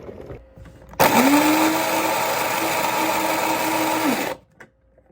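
A coffee grinder grinding beans to a coarse grind: a loud, steady electric whir starts abruptly, runs about three seconds without a break, then cuts off.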